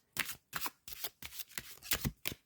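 A deck of oracle cards being shuffled by hand, six quick riffling bursts in a steady rhythm, close and crisp.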